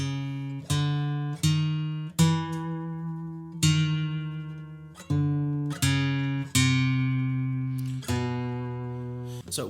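An acoustic guitar plays a bass line, a series of about nine clearly plucked notes, each ringing and decaying, stepping up in pitch and then back down, alone and close.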